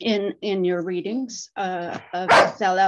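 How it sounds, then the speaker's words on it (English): A pet dog barks and yips repeatedly in a home, close and loud, short bursts interleaved with a person talking in a reading discussion. "I'm sorry about my dog."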